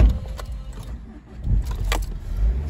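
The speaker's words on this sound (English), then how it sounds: "Starting the vehicle up." Car engine starting up, heard from inside the vehicle: a low rumble with a brief cranking burst and a rising catch around the middle, then a steady idle, with keys jangling faintly near the start.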